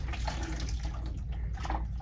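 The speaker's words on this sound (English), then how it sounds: "I'm going to rinse." Water runs steadily from a tap into a sink as a basin is rinsed, a continuous close splashing hiss with small gurgles.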